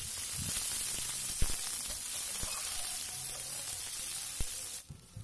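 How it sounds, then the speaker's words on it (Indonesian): Lime leaves and galangal with garlic and shallots sizzle steadily in hot oil while being sautéed for beef-skin stir-fry, a continuous close frying hiss with a few stirring knocks, cutting off near the end. "Tumis sampai harum."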